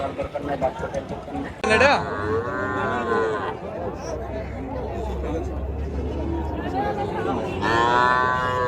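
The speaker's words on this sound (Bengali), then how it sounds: "দেখতেই পাচ্ছেন কি পরিমাণ গরু উঠেছে" Cattle low at a busy livestock market in Muktagacha, where Friesian and Australian cows are sold, with two long moos standing out over the crowd's chatter and the hubbub of people talking nearby.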